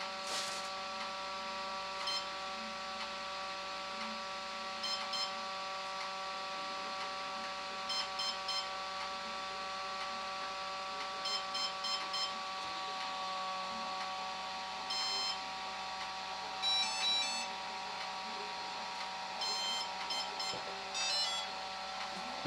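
An Atomic 80 amp brushless ESC for an RC model beeps during programming, with short clusters of high electronic beeps repeating every few seconds over a quiet steady tonal whine.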